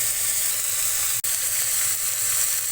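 Ground spices and chili powder hiss and sizzle steadily in hot oil for Bengali tilapia curry with greens and tomato, a dense close frying noise broken by one brief dropout.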